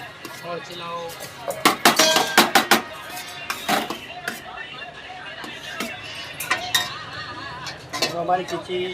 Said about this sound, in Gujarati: હવે મિક્સ કરી દેવાની